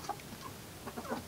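Young chickens and roosters cluck softly and intermittently at a feeder, a few short calls scattered over low background noise, close by.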